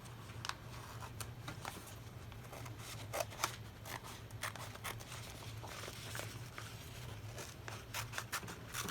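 Scissors snipping straight through lined contact paper for a Dollar Tree catch-all tray, a quiet series of short crisp cuts and rustles over a steady low hum, close and faint with no talking.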